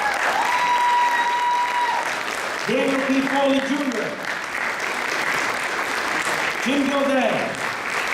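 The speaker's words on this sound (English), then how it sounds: "would you please give them a nice warm round of applause?" Audience applause for Board of Education members at a 2017 inauguration ceremony, a sustained wash of clapping heard throughout while a voice announces names over it.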